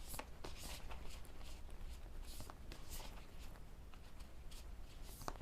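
A deck of oracle cards being shuffled, giving soft papery riffles and flicks in quick irregular bursts at close range over a steady low background hum.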